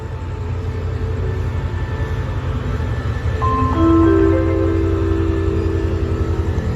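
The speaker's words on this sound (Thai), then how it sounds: "ขึ้นขบวนรถที่อยุธยานะฮะ" A train rumbles steadily at Ayutthaya railway station in Thailand, a loud continuous low drone with a brief sustained horn-like tone rising midway.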